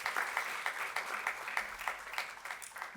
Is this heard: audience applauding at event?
yes